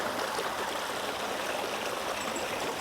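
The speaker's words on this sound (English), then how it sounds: "You guys can see that little river starting to fill up" Water runs into a newly built backyard pond stream lined with flat flagstone at a wildlife sanctuary, a steady broadband rush and trickle that holds even and fairly close throughout, with no voices over it.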